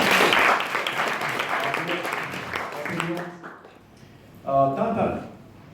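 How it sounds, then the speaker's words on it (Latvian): An audience at a business presentation applauds in a loud burst of clapping for about three seconds, which then fades as a voice starts speaking. "Un te būtu aplausu vietā."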